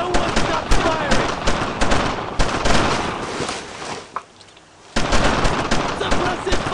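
Rapid bursts of World War 2 rifle and machine-gun fire in the Brothers In Arms squad shooter, loud and dense with shouted voices mixed in, briefly dropping to a quieter lull before the shooting resumes.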